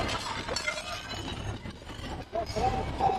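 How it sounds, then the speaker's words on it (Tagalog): Glass items breaking among discarded goods during a dumpster dive, heard as shattering and clinking under excited voices and background commotion. "Kabasag-basag na!"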